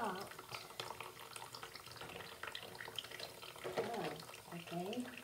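Water runs from a tap while hands are washed, a soft splashing flow that keeps going under scattered talk and rustling.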